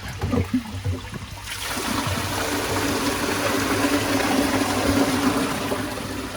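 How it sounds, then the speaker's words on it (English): Water gushes steadily through a Nexus 320 pond filter as it is rinsed, a continuous broadband rush that starts after a brief rattle and holds loud and even to the end. "What I'll do is just give it a bit of a rinse"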